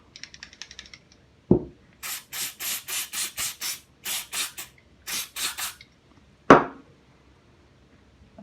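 Short hissing bursts of spray lubricant hit the cylinder of a Ruger Single-Six Bisley revolver, about a dozen quick puffs in uneven groups, with two sharp metallic clicks from the cylinder, close and fairly quiet.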